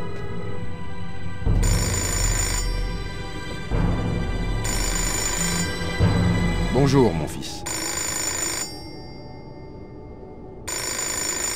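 Telephone ringing in the video game Fahrenheit: Indigo Prophecy, a bright electronic ring in repeating bursts, loud and close, with a voice speaking between rings over a low rumbling background.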